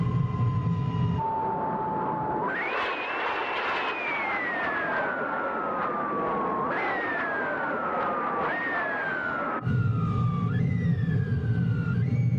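Simulated De Havilland Vampire jet with an engine fire in Microsoft Flight Simulator: a loud, steady turbine roar with a whining tone that jumps up and slowly sags several times, alone without talk.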